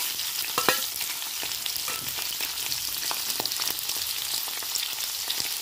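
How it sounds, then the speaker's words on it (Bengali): Prawns frying in hot oil in a kadai on a gas stove give a steady close sizzle with occasional sharp pops and stirring scrapes, continuous and unaccompanied by talk. "কড়াই আমি তেল দিয়ে দেবো, দিয়ে চিংড়ি মাছটা ভেজে নেবো"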